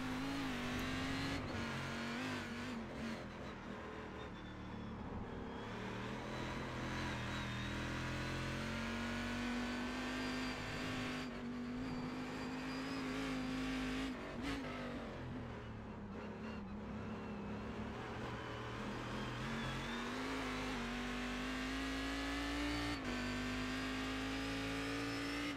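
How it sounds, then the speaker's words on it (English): A Cadillac CTS-V race car engine in the iRacing video game at Oran Park drones loudly and continuously, revving up and easing off through shifts and corners, with no voices. "It's the Cadillac."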